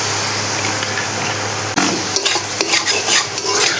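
Soy sauce and apple cider vinegar hit a hot frying pan in a Bengali kitchen: a steady loud sizzle, then a sharp burst as the liquid lands, followed by scraping and stirring clatter up close.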